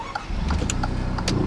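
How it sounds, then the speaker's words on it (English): An Alfa Romeo Giulia Quadrifoglio fitted with aftermarket downpipes is restarted: a short starter whir catches into a low engine rumble that settles into a steady, close-up idle. "just turning the car back on"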